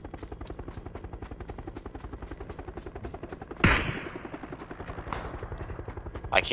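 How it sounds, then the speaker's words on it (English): Rapid, steady automatic gunfire from an online battle-royale shooter rattles continuously through the clip, with a louder close shot or impact midway and more bursts near the end. "I can't see this guy you guys are shooting at."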